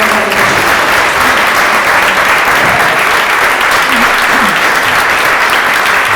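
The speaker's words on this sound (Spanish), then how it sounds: "se merece un gran aplauso y muchas gracias" An audience at a book presentation applauds steadily, dense loud clapping sustained throughout the roughly six seconds.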